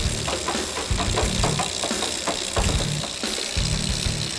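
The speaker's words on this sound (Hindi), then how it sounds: "बड़ी अजीब बात है, मेरी बाइक की आवाज आ रही है पर उसकी बाइक की नहीं।" A cartoon motorbike engine during a race, giving a loud, rhythmic pulsing drone with a rattling, knocking edge that rises and falls in regular bursts. No speech is heard.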